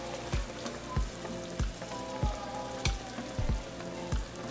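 Beef green chile meat simmering in a pot after hours of cooking, a steady bubbling sizzle with soft periodic pops and thumps, close and moderately loud, no voices.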